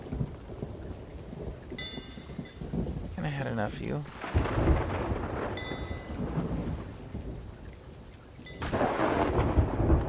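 Heavy thunder rumbles and booms over steady rain during a thunderstorm, with a voice speaking briefly partway through and a louder burst of rain and thunder near the end.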